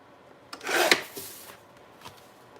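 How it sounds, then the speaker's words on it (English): Craft material for a traveler's notebook being trimmed: one short, soft rasping cut rises and fades within about half a second, followed by faint scraping touches in a quiet room. "So I'm going to trim that down just a little bit more."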